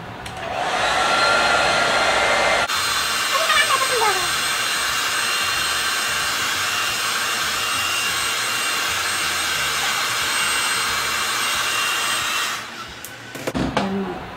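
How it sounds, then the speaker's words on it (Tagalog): A hot air blower roars steadily at close range while drying vinegar off a moldy bag, a loud continuous whoosh that runs for most of the stretch and then cuts off, followed by a few brief handling knocks. "Sa blower, ma'am, dapat yung mainit."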